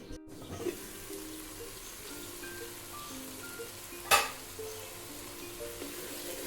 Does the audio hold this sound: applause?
no